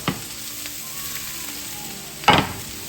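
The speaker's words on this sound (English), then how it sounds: "Now I'm gonna add in that kielbasa" Kielbasa for a gumbo drops into a hot pot and sizzles steadily, with a sharp thump at the start and another louder clatter and hiss near the end, heard close and without speech.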